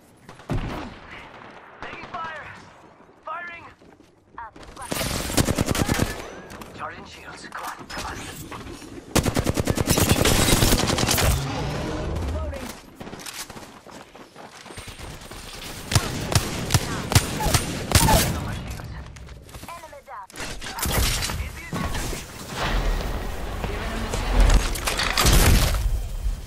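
Video game gunfire comes in repeated loud bursts of rapid automatic shots separated by brief pauses, with a player's voice calling out between and under the volleys.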